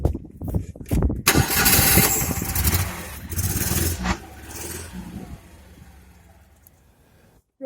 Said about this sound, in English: I'm going to start the engine, and I'm going to leave it running to get the engine hot